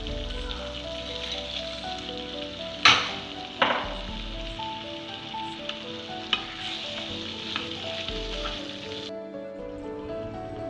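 Paneer frying in ghee for a ghee roast masala gives a steady, close sizzle with a few sharp clatters and stirring knocks early on, continuing alone without speech.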